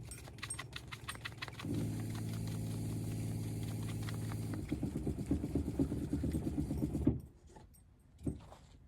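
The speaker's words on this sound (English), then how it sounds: "The freeway traffic is extra loud today for some reason." Loud freeway traffic near the Black Canyon Trail area, a steady broad roar with a deeper engine drone swelling for a few seconds, while light rhythmic jingling and clicking sit close by before the noise suddenly drops away.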